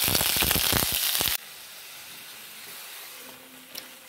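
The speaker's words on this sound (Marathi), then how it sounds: "इकडे मी गॅसवर कढईमध्ये तेल घालून घेतलंय। आता यात ही पेस्ट घालून घेते।" Onion paste hits hot oil in a kadhai on a gas stove with a loud, close burst of crackling sizzle that cuts off abruptly, leaving quiet room tone.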